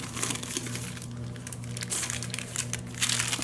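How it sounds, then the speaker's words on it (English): Someone handles and cuts a glassine bag, producing close, continuous crinkling and crumpling with sharper crackly bursts throughout, with no speech over it. "The glassine bag, like I showed you, first of all, I cut it like this."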